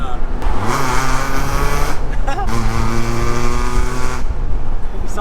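Straight-piped Honda Civic EP3 Type R with an M2 Hornet exhaust revving hard, loud rising and falling engine harmonics in two bursts close by, with speech faintly present.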